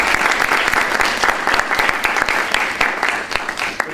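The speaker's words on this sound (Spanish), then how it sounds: "Un aplauso." Audience applause at the close of a lecture on market economies and China's accession protocol, a dense steady clatter of many hands clapping together, loud and sustained throughout with no talk over it.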